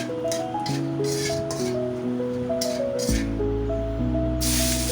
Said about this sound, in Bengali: এখন দিয়ে দিলাম পেঁয়াজ কুচি আর দিয়ে দিলাম আদা রসুন বাটা